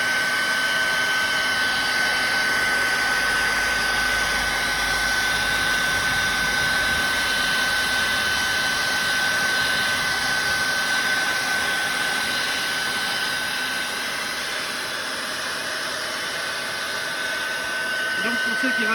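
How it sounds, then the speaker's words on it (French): A hair dryer blows steadily up close, heating glue on tire stickers on a Tesla's wheels, a constant whirring hiss with a thin high whine that holds for the whole stretch and dips slightly near the end. "un petit coup de sèche-cheveux bien sûr pour faire bien fusionner la colle"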